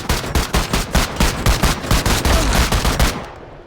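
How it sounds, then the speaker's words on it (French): Rapid automatic gunfire in a shooting video game, a loud, dense stream of evenly spaced shots lasting several seconds before cutting off abruptly. "tire à balles réelles, les gars"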